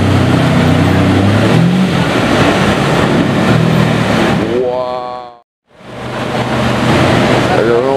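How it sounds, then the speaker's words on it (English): Lamborghini Diablo VT Roadster engine roaring loud and close as it backs up, a steady heavy rumble with a brief drop to near silence before the engine noise returns. "He got a Diablo VT Roadster."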